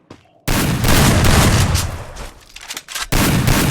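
Gunfire in the mobile shooter Free Fire, loud bursts of rapid shots that start abruptly, briefly drop out near the end, then resume just as loud.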